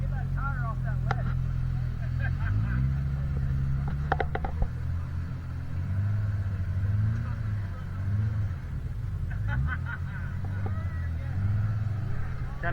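A Pro R 4-seater UTV engine drones low and steady while trying to free a tire from a rock ledge on a Sand Hollow trail. Occasional creaks and clunks from the chassis sound over the engine, and people talk nearby.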